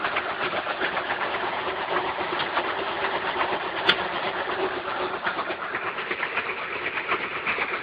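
A 377 small-block Chevy V8 with a Comp Cam 306S solid cam, fitted in a 1974 Datsun 260Z, runs steadily in a dense continuous drone that stays level and fairly loud throughout with no voices.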